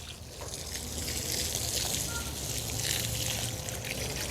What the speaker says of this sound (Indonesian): Kita siram merata